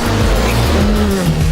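A Skoda rally car drives hard through a forest stage, its engine note loud and continuous with shifting pitch, rising and falling through gear changes and close by the whole time.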